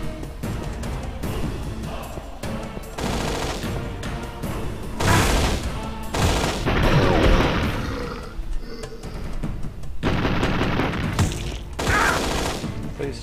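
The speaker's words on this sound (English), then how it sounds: "Please stop shooting me." Enemy gunfire in a first-person shooter video game: dense bursts of shots and booming impacts that come in waves and pile up into heavy volleys, loud and close, with a player's voice now and then.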